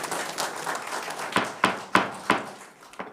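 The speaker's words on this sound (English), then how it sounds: "No clapping, please." Scattered audience clapping at a board meeting, a few sharp separate claps landing one after another in a room, moderately near, fading out within a couple of seconds.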